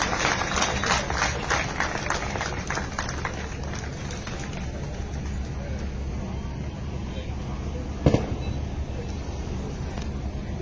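A live audience applauds at a public program gathering, a dense, steady wash of clapping that carries on for several seconds, with a few voices mixed in.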